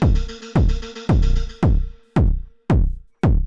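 Percussion sequenced on a Novation Circuit Tracks, heard as a steady pattern of six punchy, booming drum hits with tonal tails that duck and swell between them, loud and with no talking.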